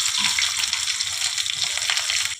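Potatoes fry in hot oil with whole spices, giving a loud, close, continuous sizzle and crackle that holds steady before tapering at the end, with no talking.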